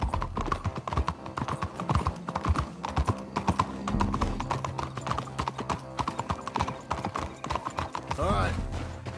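Horses ridden at speed in Red Dead Redemption 2 pound out rapid, dense hoofbeats near and loud, with a whinny or two, under shouted voices and a rising whoosh near the end.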